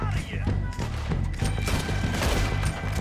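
Rapid gunfire in Red Dead Redemption 2 on PC: a string of sharp shots and thuds in quick succession over game ambience, with a voice heard between some of the shots.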